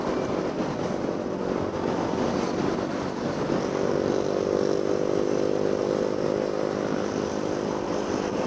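A tricycle's small motorcycle engine revs in a steady, buzzing drone, close and continuous, with wind noise mixed in.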